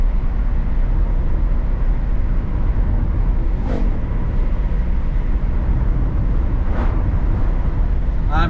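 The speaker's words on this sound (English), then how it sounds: "I forgot how loud this thing was with it straight through exhaust." A BMW E30's loud, steady engine drone rumbles throughout with a deep, rough straight-through exhaust note, broken by a couple of brief higher squeaks.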